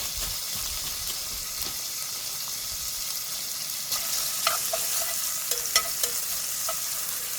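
Large chunks of bacon frying in a pan for a brisket and potato hash give a continuous close hiss and sizzle, with a few sharper pops and crackles toward the end.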